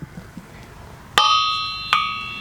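Two sharp hammer strikes on a Hemi crankshaft, each leaving a clear, sustained metallic ring that decays slowly; the first strike rings longer before the second lands about three-quarters of a second later, close and alone with no talk.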